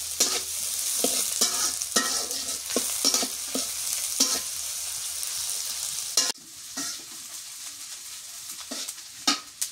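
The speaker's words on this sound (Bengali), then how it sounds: "পেঁয়াজের সাথে একটু ভাজিয়ে নিই ভালো করে।" Onions and crushed whole spices fry in a pan for a beef curry, with a steady loud sizzle broken by repeated scraping stirs of a spoon. The sizzle drops slightly in level partway through.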